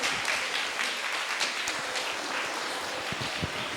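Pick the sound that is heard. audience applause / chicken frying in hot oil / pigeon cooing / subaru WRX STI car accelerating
audience applause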